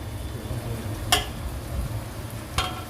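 Blended spice paste frying in a hot pan for biryani, a low steady sizzle with two sharp clinks of a spoon against the pan.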